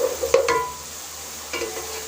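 Onions turning light brown in a pan on the stove, given a couple of quick scraping stirs early on and another near the end over a faint, low sizzle; fairly quiet and close, no voices.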